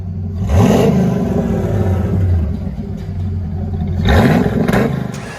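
A 1993 Ford Mustang GT with a 5.0 V8 and aftermarket exhaust revs hard twice, each blip rising and falling over a rumbling idle, loud and close with no talking.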